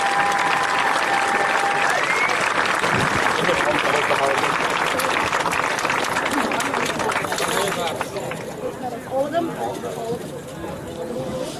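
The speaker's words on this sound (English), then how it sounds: "if you could just do one big round of applause for all those people who I've thanked" A large crowd applauds at the Quidditch World Cup 2016 final, sustained loud clapping with scattered cheers and whistles that gradually thins out toward the end.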